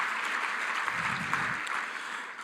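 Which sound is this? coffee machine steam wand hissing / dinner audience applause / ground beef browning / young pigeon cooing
dinner audience applause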